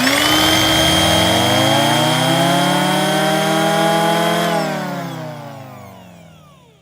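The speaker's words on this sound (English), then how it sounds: "The wind down of the blower is now present." A leaf blower roars steadily at full speed, then its whine drops in pitch and fades as the motor spins down to near silence, loud and close with no talking.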